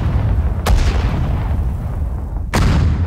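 Artillery guns fire two loud booming shots about two seconds apart in a Sudden Strike 4 battle on the Soviet Balaton defensive front, each blast ringing over a steady low rumble of combat.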